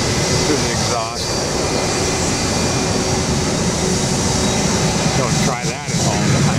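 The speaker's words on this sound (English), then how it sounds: "through the engine on a 757, through the exhaust." A loud, continuous roar of Boeing 757 jet engine exhaust blasts steadily close up, with brief voices cutting through twice.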